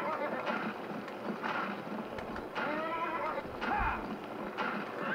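A horse in a video game gallops with rapid clip-clop hoofbeats and gives several loud neighs and whinnies, close and continuous over a busy background.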